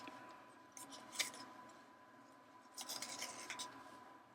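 Scissors trimming ribbon for a Christmas tag: a few short, quiet snips and rustles close up, with a soft crunchy patch of cutting later on.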